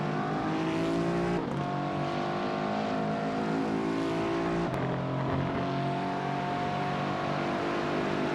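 Several race car engines screaming around the Hungaroring in iRacing during an MTEC Sprint Series race, a dense, loud, continuous roar with layered pitches that rise and fall as the cars shift gears close together.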